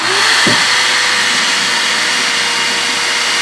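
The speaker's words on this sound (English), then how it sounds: "it threads deeper into the bolt as you put the drill in reverse" A drill runs in reverse, driving an extractor bit to back out a bolt while a subfloor is fitted in a Promaster van. It gives a loud, steady, close-up whir with one short knock near the start.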